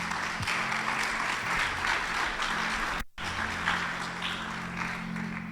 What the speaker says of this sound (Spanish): Démosle un fuerte aplauso a Jesucristo.